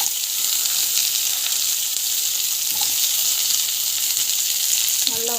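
Onion and green chillies sautéing in hot oil give off a steady, loud sizzle throughout, with a faint scrape near the end and no talking.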